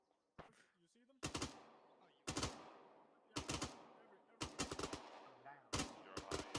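Gunfire in the military video game ArmA 3 during a training session: several loud, sharp bursts of rifle shots in short clusters of a few rounds each, spaced about a second apart, with faint background sounds between bursts.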